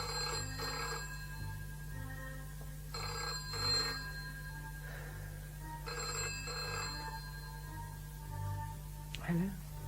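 A telephone bell rings in repeated double bursts for a radio play, several rings spaced a few seconds apart over a steady low hum, with faint background sound between rings.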